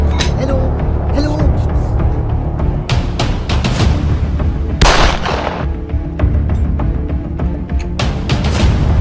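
Gunfire in a Hindi short film scene, a series of sharp loud shots at irregular intervals over a heavy rumbling background, mixed with shouting voices.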